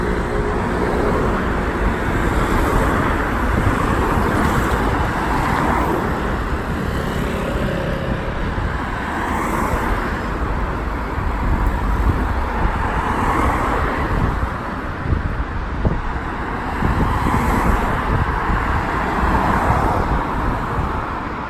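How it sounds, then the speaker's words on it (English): Steady road traffic rumbles past near Marble Arch, London, on a windy day, with cars passing in a continuous loud wash of engine and tyre noise and no talking. "I need to wait for the coming traffic."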